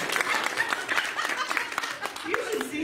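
Scattered audience clapping at a talk, with brief irregular claps mixed with chuckles and a speaking voice throughout the short stretch.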